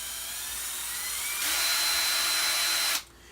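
A Ryobi Quiet Strike pulse driver running on its variable speed trigger: a high motor whine that steps up in speed partway through, holds steady and loud, then cuts off abruptly, with no talk.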